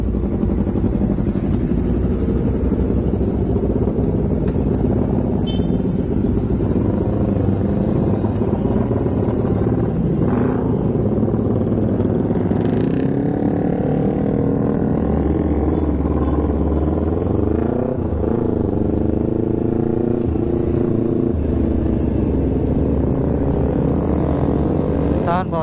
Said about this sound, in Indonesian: Kita ada beberapa motor ini, 1, 2, 3, 4, 5, 6, 7, 8, 9, 10 motor.